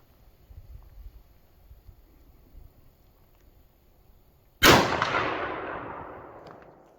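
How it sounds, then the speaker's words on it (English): A rifle shot fired freehand at a target 100 yards away lands as one sudden loud crack after quiet outdoor background, followed by a long rolling echo fading over about two seconds. "We are gonna freehand shoot 100 yards and see if we can hit that T-jug down there."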